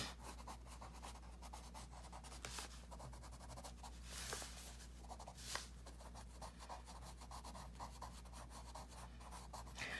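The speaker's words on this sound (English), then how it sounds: "Don't you like to just kind of listen to the sound of the pencil hitting the paper?" Pencil scratching steadily on paper during colouring, a soft continuous close-up rubbing and scraping texture with faint brighter strokes, over a low steady hum, no talk.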